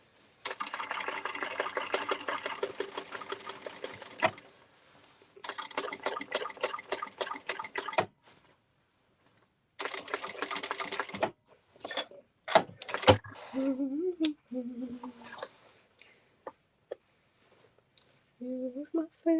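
Industrial sewing machine doing free motion quilting on a baby quilt, fast rattling stitching in three long bursts separated by pauses, then short clicks and knocks, close and fairly loud.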